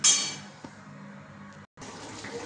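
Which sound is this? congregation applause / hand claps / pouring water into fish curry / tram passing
pouring water into fish curry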